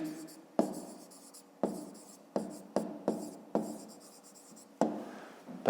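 A pen or pencil writes on paper in short bursts of scratchy strokes, about seven or eight separate strokes with brief pauses between, close and fairly quiet, as when jotting numbers for a school math exercise.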